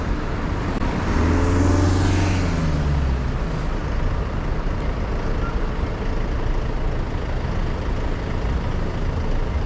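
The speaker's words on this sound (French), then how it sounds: "Il y a pas mal de circulation." Busy city road traffic passes a commuting cyclist, with a loud vehicle sweeping by early on and a continuous dense rumble and roar of cars, trucks and buses throughout.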